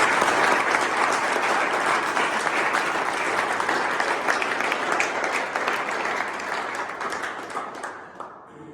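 Audience applause at a defence academy stage event, sustained crowded clapping that holds steady and then tapers off near the end.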